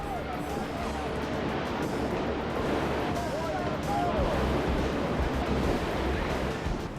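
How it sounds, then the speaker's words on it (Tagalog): Ocean waves surge and crash against a seawall during a rescue at sea. The roaring surf and wind rumble continuously and strongly, with a steady wash of noise and faint voices in the background. "ayaw patalo ng alon"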